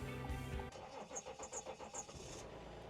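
A RAM 1500 pickup truck engine cranks on a cold start with rapid rhythmic chugs for a couple of seconds, then catches and settles into a steady idle.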